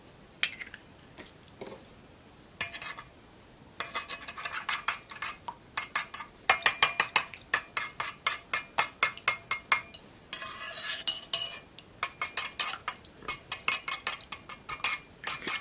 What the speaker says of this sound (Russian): Маша делает эту смесь, просто молоко и яйца туда разобьет